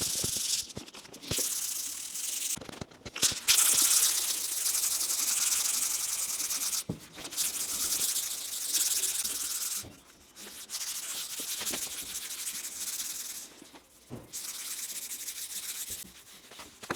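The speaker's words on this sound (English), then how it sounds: "Started sanding down the first part of the bonnet." Hand sanding primer on the bonnet of a BMW E36 inside a gazebo, a loud, close, steady scratchy rasp of abrasive strokes running nearly continuously, broken by a few short pauses, with no talking.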